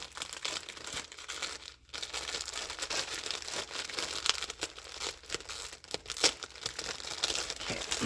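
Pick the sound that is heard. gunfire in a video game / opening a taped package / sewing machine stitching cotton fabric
opening a taped package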